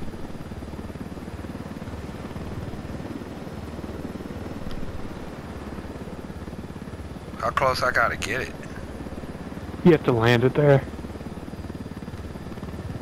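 A big helicopter in Ghost Recon Wildlands gives a low, steady engine rumble that runs beneath the whole scene, while people speak briefly over it twice.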